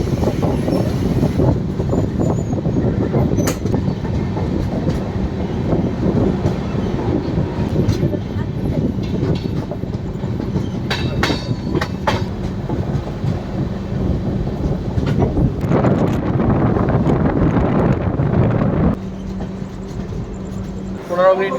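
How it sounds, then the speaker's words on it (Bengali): Puri–Howrah Superfast Express running along the line, a steady loud rumble of wheels and carriage noise throughout with faint clicks, a voice talking over it, and a slight drop in level near the end. "জানা অজানা এক এক স্টেশন পার করে চলেছে আমাদের পুরী হাওড়া সুপারফাস্ট এক্সপ্রেস"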